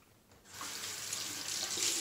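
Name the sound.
tap water running to wet a razor blade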